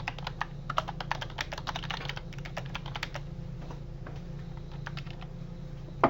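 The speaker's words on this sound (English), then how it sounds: "we're going to type in our text here" Keys clatter on a computer keyboard as text is typed into a word processor, a close, quick run of irregular clicks that thins into sparser taps, with no talking.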